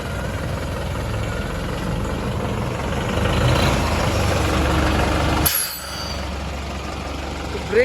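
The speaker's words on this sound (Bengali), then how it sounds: "চলুন গাড়ির কেমন ব্রেক ক্যাপাসিটি কেমন হাওয়া ব্রেকিং" A new truck idles with a heavy, steady engine rumble, then its air brakes release one sharp, loud hiss before the engine settles back to idle.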